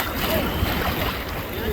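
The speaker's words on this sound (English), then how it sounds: "there were plenty of small waves beating the shore endlessly" Small waves washing endlessly against the shore of Saona Island in East National Park, Dominican Republic, a steady close wash of water with wind buffeting the microphone and no pauses.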